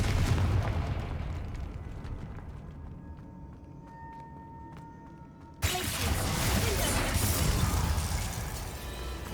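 A Confringo spell explosion in Hogwarts Legacy bursts suddenly partway through, giving way to a loud, sustained roar after quieter game ambience with faint tones.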